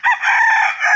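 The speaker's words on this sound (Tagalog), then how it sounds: "Konti na lang manok namin" A rooster crows loudly and close by in one sustained, strained call lasting about a second.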